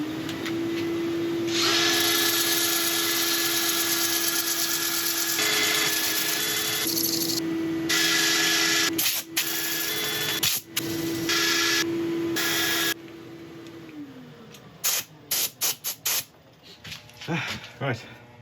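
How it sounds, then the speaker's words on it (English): A turned wooden bowl is sanded on a woodturning lathe: a steady motor hum runs under a broad abrasive hiss, which breaks up into stop-start bursts and quieter gaps near the end. "I'm going to set up for sanding"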